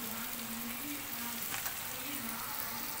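Washed chicken liver pieces hiss and sizzle steadily in a hot frying pan with ginger-garlic paste, a continuous close frying sound with faint stirring and no talk.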